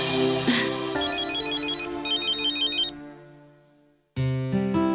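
A mobile phone ringtone plays a bright electronic melody of repeated tones. It cuts off into a moment of silence, then starts again loud and close, with no talking.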